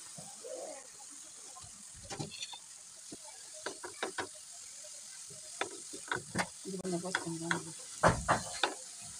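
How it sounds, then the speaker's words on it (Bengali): Beetroot slices are stirred into sautéed spice paste in a pan, producing intermittent close scraping and soft sizzling strokes that grow busier toward the end. "নেড়ে চেড়ে কষানো মশলাটার সাথে বিটরুট স্লাইসগুলো আমরা মিশিয়ে নিচ্ছি"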